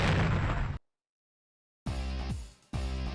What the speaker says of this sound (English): An explosion, like nuclear bomb goes off.